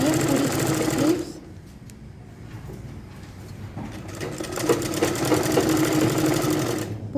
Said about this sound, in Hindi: पूरी स्लीव्स पर हम इस पर डबल सिलाई लगा लेंगे